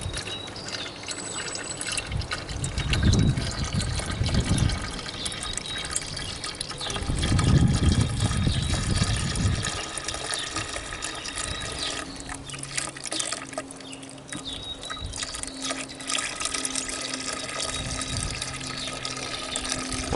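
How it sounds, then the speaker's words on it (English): Sugar syrup mixed with a supplement being poured into a one-gallon beehive feeder, two bursts of liquid filling up close with quiet pauses between them. "I've added Honeybee Healthy to it. And so I'm just going to fill this."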